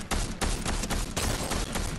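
Rapid gunshots from Fortnite, a burst of several close, loud cracks in quick succession over about two seconds.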